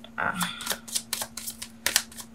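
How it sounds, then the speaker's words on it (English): Tarot cards from a major arcana deck are shuffled by hand at close range, a quick series of crisp riffling snaps and flicks over a steady low hum. "I'm gonna shuffle 3 more times"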